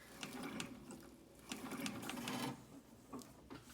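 Antique Singer treadle sewing machine running, giving a soft, continuous mechanical rattle and ticking with small irregular knocks, faint and close, with no voices.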